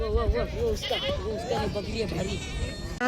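Local country goats bleat repeatedly in short wavering cries at a goat market in Kalamnuri, Hingoli district, several animals close together, with market chatter and voices mixed in around them.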